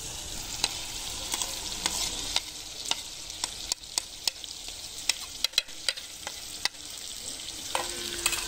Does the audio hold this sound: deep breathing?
no